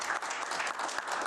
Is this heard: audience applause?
yes